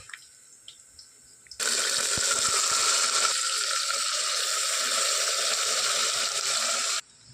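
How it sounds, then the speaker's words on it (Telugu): Water gushes steadily from a tap while mutton is washed, loud and close for several seconds before cutting off abruptly, with a few small clinks before and after. "మటన్ వాష్ చేస్తున్నాను"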